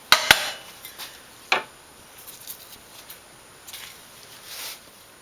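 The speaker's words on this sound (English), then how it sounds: "we'll just use our pair of channel locks to pop that retainer back in" Channel locks pop a bearing retainer into place on a Toro Recycler mower: a couple of sharp metallic clicks and snaps near the start, then softer scattered taps and handling noise, all up close.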